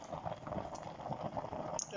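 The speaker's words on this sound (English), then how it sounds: "You can see it. How it's boiling." A covered pot of homemade cough and cold remedy bubbles on the stove, a soft irregular burble of liquid at close range, fairly quiet, with a voice talking faintly over it.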